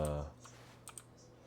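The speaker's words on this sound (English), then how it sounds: "I can't tell if the keyboard sounds is you or the game. This is the game." Faint, scattered keyboard clicks from typing in The Stanley Parable come after a brief voice at the start, a few quick taps spaced irregularly.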